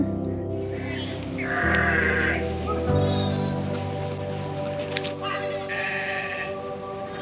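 A goat bleats loudly and nearby in two wavering calls, separated by a pause, over a quiet outdoor background.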